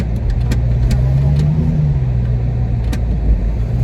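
A Hemi-engined car drives by with a steady low engine rumble and a slight rise in pitch midway, loud and close throughout with no talking.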